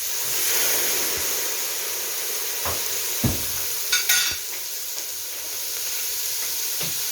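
Soy sauce and other sauces going into a sizzling wok over a medium flame, a broad steady hiss with a few sharp clacks and brief bursts of spattering as liquid hits the hot metal, no voices.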